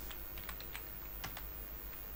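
Rapid keystrokes on a computer keyboard typing a word in capital letters, a quick run of light clicks close by with no one speaking.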